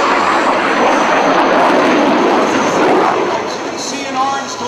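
A jet with afterburner roars past at a beach air show, a loud broad rushing thunder that swells and then eases slightly as it passes, with a voice talking faintly underneath.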